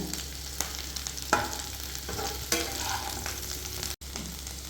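Baby potatoes frying in a pan, a steady sizzle broken by several stirring scrapes and clatters, with a low hum beneath and no talking.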